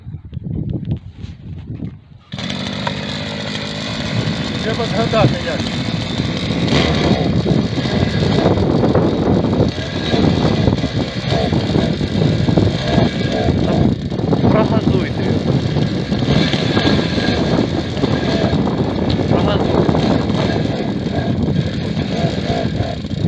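A motor cultivator's small engine, just started after winter and still cold, runs loud and steady after a quiet opening couple of seconds, its rough, uneven putter continuing throughout with voices talking faintly underneath.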